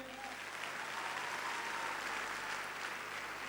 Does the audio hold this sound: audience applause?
yes